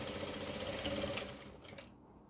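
A sewing machine stitches a ladies' scarf mask in a quick close burst of rapid rattling, then slows and stops near the end, with no talking.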